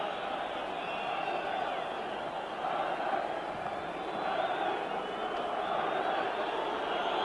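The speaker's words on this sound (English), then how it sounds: "The Bulgarian crowd trying to encourage the team to get forward." A large Bulgarian football crowd in a stadium roars steadily to urge their team forward during a Euro 1988 qualifier against Ireland, a continuous distant wash of cheering under a commentator's voice.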